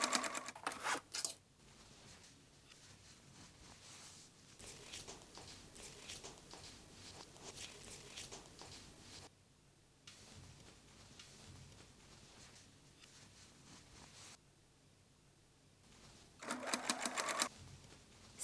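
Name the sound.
sewing machine sewing a travel bag seam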